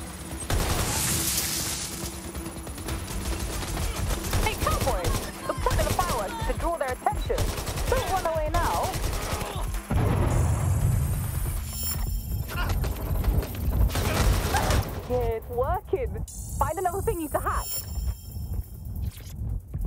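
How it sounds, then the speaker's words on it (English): AK assault rifle fire in the video game Watch Dogs: Legion, loud rapid automatic bursts and single cracks repeating throughout, mixed with game effects and someone talking over the shooting. "why don't I actually use the AK, right? Why don't we just AK them?"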